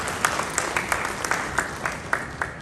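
Audience applause at a mining and minerals convention, a steady wash of clapping with sharper individual claps standing out, moderately loud and continuous for a couple of seconds.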